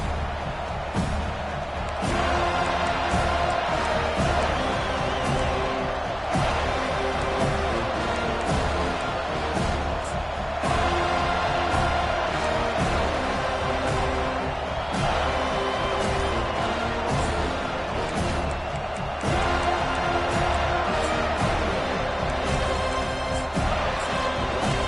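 Stadium crowd noise from a college football game in the NCAA 25 video game, a loud continuous roar and cheer that swells in repeated surges throughout, with broadband din running steadily from start to end.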